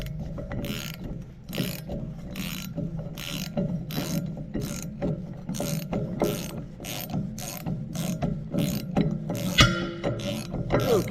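A hand ratchet tightens bolts on a Case 490 disk gang in a steady rapid rhythm of sharp clicking strokes, about a dozen pulls, over a low background hum and with a faint metallic clank near the end.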